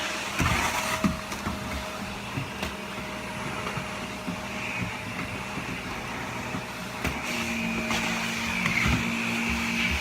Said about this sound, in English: If you just have just the old school vacuum, go over your baseboards.